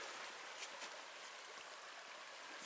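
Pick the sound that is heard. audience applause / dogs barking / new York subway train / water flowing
water flowing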